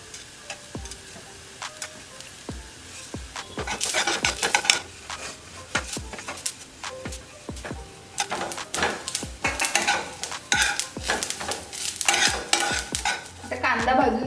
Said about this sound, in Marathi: तर आता कांदा थोडा भाजत आलाय, तर त्याच्यात आता आपण गरम मसाले घेतलेले टाकून देऊया